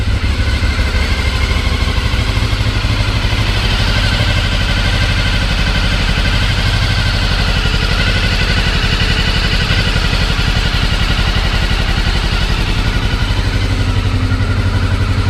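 Honda VFR 750 motorcycle engine idling on all four cylinders after a carburettor rebuild, throttle worked by hand: a loud, steady, close mechanical idle with a constant rapid pulse and faint clatter, no talking.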